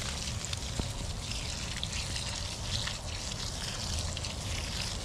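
Water poured over straw in a laundry basket to soak it for growing oyster mushrooms, a steady close splashing and trickling that runs without a break.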